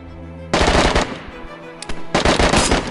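Bursts of video game gunfire during a shootout against campers at a base: a loud rapid volley, a single sharp shot, then another sustained burst, with no talking.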